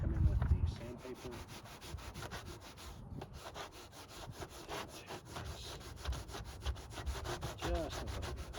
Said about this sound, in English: come in with the sandpaper